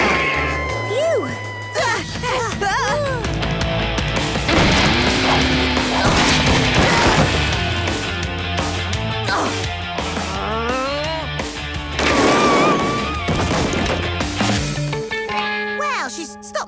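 Cartoon skateboard crash: a dense, loud stretch of layered whooshes, bangs, thuds and zany sliding effects with music, while characters talk throughout.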